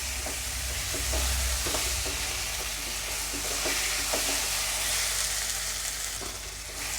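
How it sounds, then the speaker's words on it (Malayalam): Potatoes fry and are stirred in a pan as the base for a green peas and potato curry: a loud, continuous sizzle overlaid with repeated scraping spoon strokes, near and uninterrupted. "ഒരു രണ്ടോ മൂന്നോ മിനിറ്റ് ഒന്ന് ഇളക്കി കൊടുത്താൽ മതി"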